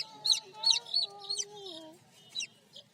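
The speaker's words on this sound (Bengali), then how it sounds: "এই দেখেন মুরগির বাচ্চা নিয়ে কি করে রুষা।" A chicken chick cheeping close by, a few short high peeps in quick succession, fairly soft, with faint background noise.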